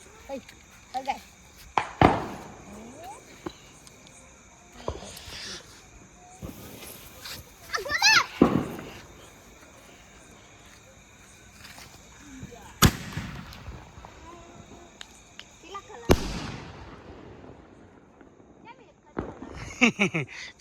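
Sky shot fireworks go off outdoors during a Dev Diwali celebration, several sharp bangs and crackling bursts spread apart, with children and adults talking and shouting between them.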